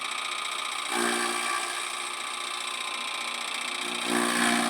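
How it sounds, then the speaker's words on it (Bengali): A straw chaff cutting machine runs with a steady mechanical whir and hum, continuous and fairly loud, rising slightly at moments as it cuts. "দেখুন বন্ধুরা এই মেশিনটায় বিচুলি কাটতে কত কমফোর্টেবল কারণ খুব অল্প টাইমের মধ্যে সহজেই কেটে ফেলা যায়"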